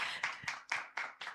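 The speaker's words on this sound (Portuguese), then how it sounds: "A audiência aqui presente pode aplaudir." Applause at a public talk comes across as about six crisp, evenly spaced claps in quick rhythm, close and moderately loud, over less than two seconds.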